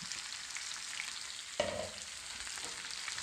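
Onions sizzle and crackle steadily in oil and butter in a pan, with a brief louder clatter as more are tipped in midway; no one talks.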